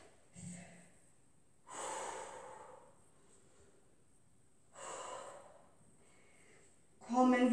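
Deep breathing during a home exercise session, with two long slow inhale-exhale cycles taken close to the mic, separated by quiet gaps, and a short voiced sound at the end.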